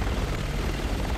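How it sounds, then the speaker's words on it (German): Helicopter in the video game Resident Evil 6 moving in to attack, a steady, dense rotor and engine roar that holds loud and unbroken throughout. "Der Heli greift uns gleich an!"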